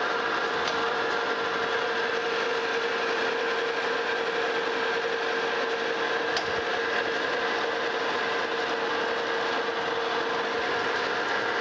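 A metal lathe cuts internal threads in a custom Nova chuck insert, giving a constant loud mechanical whir with a ratcheting, gear-like clatter and occasional faint ticks, steady and close.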